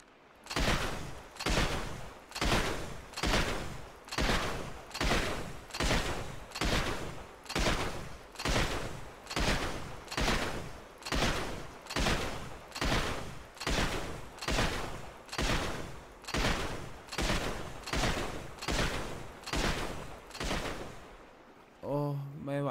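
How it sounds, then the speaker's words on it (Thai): Sustained automatic gunfire in the GTA video game, a steady rapid series of about twenty loud, evenly spaced bursts running nearly the whole stretch, with a brief voice near the end. "ขอลองยิงก่อน"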